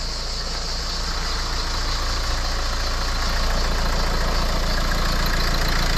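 A Renault Megane 4 with the 1.5 dCi diesel engine idles steadily after an oil change, a close, continuous low diesel clatter with an even rhythm that holds unchanged throughout, with no voices.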